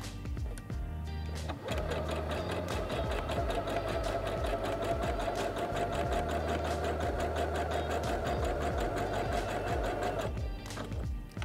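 A Singer HD6805C sewing machine runs steadily for about nine seconds stitching a default-width zigzag, a loud close rhythmic needle clatter and motor hum that starts and stops cleanly with no voices.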